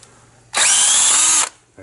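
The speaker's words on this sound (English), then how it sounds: "Keep your drill straight with it." A power drill whirs in one loud, steady burst lasting about a second, with quiet before and after.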